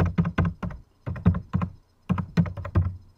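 Fingers type a web address on a computer keyboard in quick clusters of crisp, close key taps separated by short pauses, with no voices.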